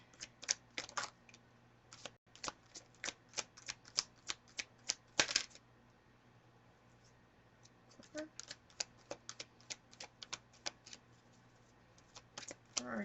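Tarot cards are shuffled and handled close by, a quiet string of rapid flicking and tapping clicks in irregular bursts with a brief pause midway.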